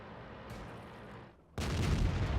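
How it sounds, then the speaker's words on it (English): An artillery shell slams in during a World of Tanks match on the Swamp map: rumbling battle noise, a brief lull, then a sudden loud broadband boom that roars on to the end. "And oh my word, another artillery."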